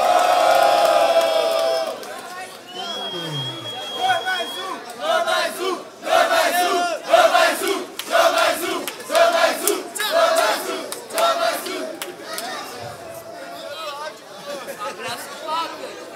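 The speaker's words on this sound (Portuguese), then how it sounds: "Barulho só pra quem achou que foi K3" Crowd at a rap battle in Rocinha erupting into loud cheering, shouting and whooping, in surging waves of many voices, close and dense, with a host speaking at the start.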